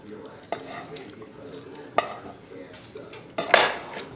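Eggs are beaten roughly in a bowl for a Chinese rice flour pancake, giving three sharp utensil clinks against the bowl spread over a few seconds, close by, with quiet stirring between them.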